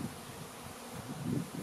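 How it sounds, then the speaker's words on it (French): Honeybees buzzing at the entrance hole of a hive in a shared garden, a soft continuous hum with slight swells, fairly quiet and steady with no voices. "les abeilles rentrent par le trou d'entrée."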